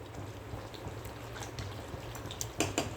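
A wooden ladle stirs mushroom biryani rice cooked with ghee in a pot, with a soft continuous bubbling hiss and a few close scraping knocks toward the end.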